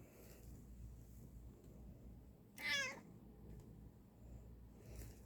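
A single cat meows once, clear and fairly close, over a quiet room background.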